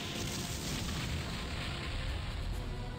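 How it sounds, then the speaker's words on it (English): Explosions in the video game Disgaea 1, a dense continuous rumble of booming blasts with no pauses, loud and unbroken for the whole stretch. "We're too cool to look at explosions."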